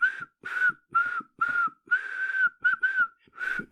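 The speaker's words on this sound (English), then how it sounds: "whistling the Marseillaise out of tune" A person whistles the Marseillaise out of tune in short, separated phrases, a clear, close, fairly quiet whistle with brief pauses between notes.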